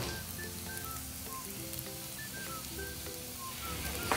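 Green chilies sizzle in hot oil in a pan, a steady, close crackling hiss that runs unbroken from start to finish.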